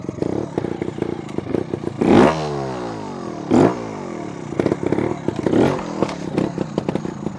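A trials motorcycle is ridden in short hops and flicks, with three sharp engine revs rising out of a rough idle, punctuated by clattering and scraping from the bike's movements, close and loud.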